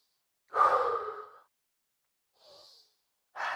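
Slow, audible breaths while holding a squat during a workout: a long exhale, a softer breath after a pause, then another breath beginning, close and quiet with no talking.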